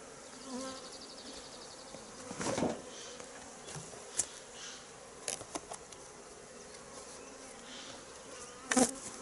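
Honeybees from two hives buzzing close by during spring swarm-making, a fluctuating drone with several louder passes as individual bees fly near.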